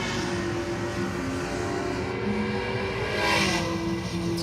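At a drag strip, a race car's engine revs hard at launch, a loud, steady, rising roar with dense harmonics that lasts the whole stretch.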